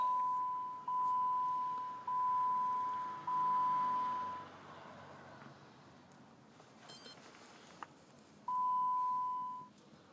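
A Jeep Wrangler chimes after the key is turned on: four steady, evenly spaced beeps, a pause, then one more beep, clear and close in a quiet cabin.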